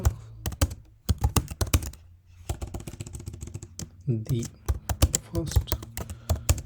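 Someone types on a computer keyboard while writing a WordPress post. Quick, close bursts of key clicks come in irregular clusters, mixed with and partly under a person talking.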